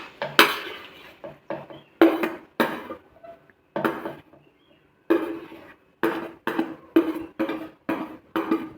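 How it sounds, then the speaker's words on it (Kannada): Fried onion and tomato being spooned into a mixer jar, a series of sharp metallic clinks and scrapes of a spoon against steel, irregular and close, with short pauses between strikes and no talking. "ನಾನು ಇವಾಗ ಮಿಕ್ಸಿ ಜಾರಿಗೆ ಹಾಕ್ತಾ ಇದ್ದೀನಿ"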